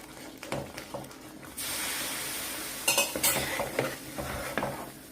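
Hot oil is poured into a mysore pak mixture and the mixture bubbles up: a sudden loud hissing sizzle over clinks and scrapes of a ladle against the pan, close by, with no talking.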